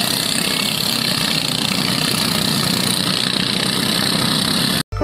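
The engine of a ketinting longtail boat runs at a steady idle, a close, continuous droning rumble with mechanical vibration that cuts off abruptly at the end.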